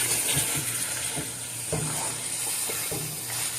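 Mutton and spices sizzle as they fry in a pot for yakhni pulao, a steady close hiss with intermittent crackles and soft stirring scrapes, and no voices.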